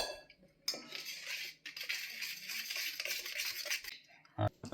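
A spoon stirs pizzelle batter in a bowl, with continuous close scraping and clinking of metal against the bowl broken by brief pauses and a final sharper clink.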